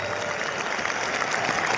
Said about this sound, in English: Big round of applause for Tom Brady and the boys.